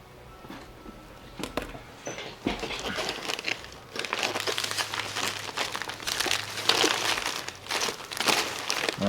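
Brittle old paper crinkles and crackles continuously for about nine seconds, in dense close-up handling bursts that get louder and busier in the second half.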